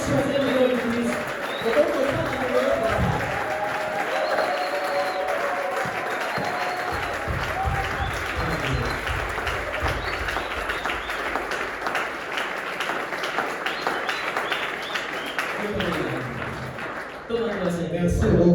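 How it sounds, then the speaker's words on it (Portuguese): Pentecost church congregation applauding loudly, a continuous crowd clapping mixed with voices, cheering and music, with a preacher talking over it. "Então podemos aplaudir bem forte."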